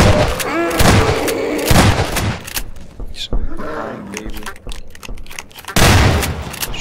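Gunfire in the game Half-Life 2 rings out loud and close in rapid bursts, with heavy booming shots and roaring game effects, mixed with someone talking.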